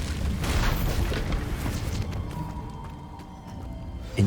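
A booming fire spell, Incendio, cast in Hogwarts Legacy: a loud roaring burst at the start that trails off into crackling over a couple of seconds, with a sharp pop at the end.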